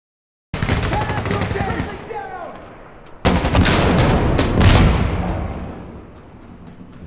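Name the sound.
gunfire in the video game Insurgency Sandstorm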